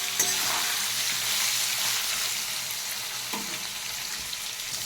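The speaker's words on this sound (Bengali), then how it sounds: "আলুটাকে বেশ সুন্দর করে ভেজে নেব।" Potatoes and soya chunks frying in a pan, giving a steady, fairly soft hiss of oil with a few light clicks of stirring and no voices.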